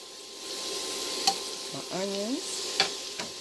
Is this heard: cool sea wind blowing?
no